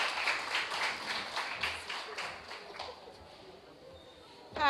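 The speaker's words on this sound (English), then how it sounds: "give her a big round of applause, Georgia Garvey" An audience at a finance ministry public service expo applauds in a moderate, fairly distant patter of clapping that fades out over a few seconds.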